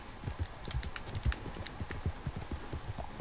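Horse hooves clip-clop at a steady walking rhythm in the Red Dead Redemption 2 video game, a series of soft, fairly close thuds with no talking.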